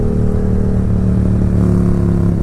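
A Kawasaki Vulcan 900 motorcycle engine drones steadily while riding, a close, continuous low rumble with a faint clattering edge and no talk.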